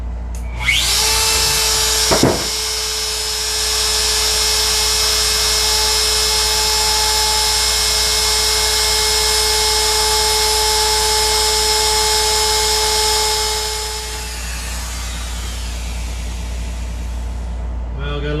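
A wood router spins up with a high, steady whine as its bit cuts into wood, holding for about twelve seconds before spinning down. The machine is loud and close, with no talk over it.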